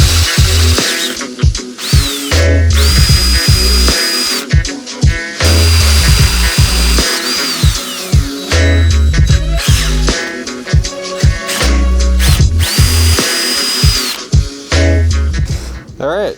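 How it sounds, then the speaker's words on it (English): A power drill bores holes through a bumper mounting bracket on a truck frame rail during a winch install. It comes in repeated whining bursts with pauses, and a person talks between and over them. "let me go ahead and drill out these holes and we'll get the bumper on there."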